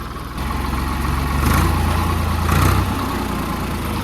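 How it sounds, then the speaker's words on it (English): A 3-cylinder diesel engine on a Ford 3910 tractor idling nearby with a low, throbbing chug, swelling twice as the throttle is briefly raised. "You can't deny that tractor engine sounds amazing."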